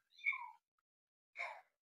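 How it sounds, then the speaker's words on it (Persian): A kitten being raised indoors gives two short, separate meows about a second apart, the first rising and thin, the second brief and breathy, both close and fairly faint in an otherwise quiet room. "صدای این بچه گربه است، فکر می‌کنم گوش نشه"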